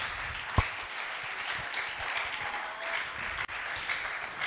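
A church congregation applauding, a dense, steady wash of clapping from many hands that fills the space throughout, with a single sharp knock near the start.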